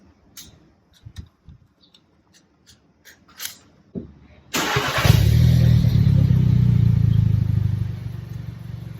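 A few clicks and rattles, then an Audi A3 sedan engine starts and settles into a loud, steady idle with a deep exhaust rumble through a new aftermarket quad-outlet muffler.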